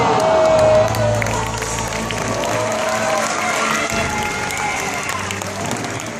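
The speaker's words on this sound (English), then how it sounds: "All right, audience, keep your applause going" Studio audience at a live Fear Factor show applauding and cheering: loud, sustained crowd clapping and whoops close by, with a voice talking over it.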